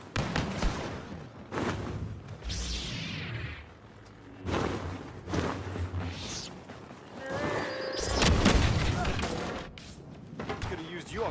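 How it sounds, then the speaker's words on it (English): Star Wars Battlefront 2 heroes-versus-villains match full of blaster fire, repeated sharp shots and whooshing bursts mixed with explosions across a busy, continuous battle, with voices speaking over the action. "blaster fire."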